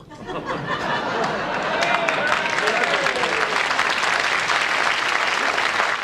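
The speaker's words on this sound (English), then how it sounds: "An applause break for that?" An audience breaks into sustained applause mixed with some chatter and laughter, rising quickly and holding steady for several seconds.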